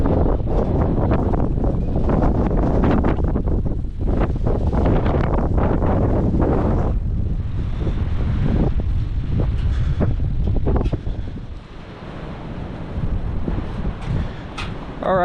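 Strong gusts from a February 2023 windstorm in the Ohio Valley roar across the microphone in heavy, buffeting waves. The wind stays loud throughout and eases slightly toward the end.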